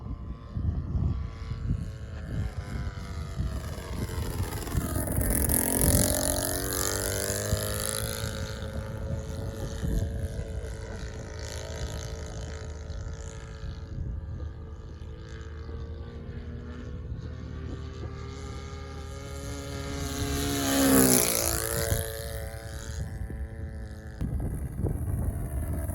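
A giant RC plane powered by a 39-year-old O.S. FT 160 Gemini four-stroke engine drones overhead. It makes two clear passes, each swelling and dropping in pitch as it sweeps by, with a distant, steady hum between them.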